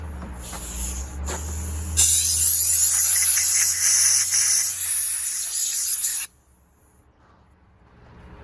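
A strong burst of blowing air hisses loudly for several seconds, then cuts off abruptly, leaving quieter background.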